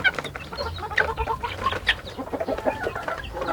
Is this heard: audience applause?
no